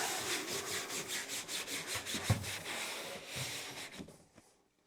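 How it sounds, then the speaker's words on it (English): Rhythmic back-and-forth rubbing of an acetone-soaked rag over a boat's hard surface, steady strokes close by that slow and fade out at the end. "So I'll just put some acetone on a rag and then wipe this down"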